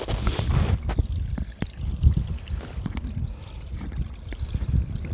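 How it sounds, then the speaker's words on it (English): Snowmelt water trickles and gurgles as it runs beneath the ground in the woods, a soft continuous flow with a few faint clicks and rustles nearby. "You can actually hear the water running under there."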